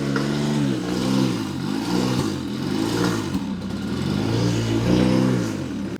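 Small engine of a Motobecane Moby-X1 folding French moped idling high and rough, a steady close buzzing drone with slight surging and no voices.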